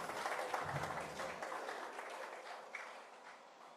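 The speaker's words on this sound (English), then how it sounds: "A round of applause for His Excellency." Audience applause at an international conference on ECOWAS at 50, a steady wash of clapping from a large crowd that carries at even volume, then thins slightly toward the end.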